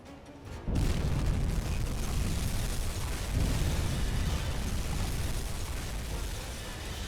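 Torpedo explosions strike a Liberty ship in the submarine game UBOAT, a sudden deep boom after a brief quiet, then a sustained loud rumbling roar that rolls on without fading much.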